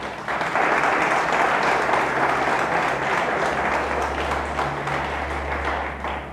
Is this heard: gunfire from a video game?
no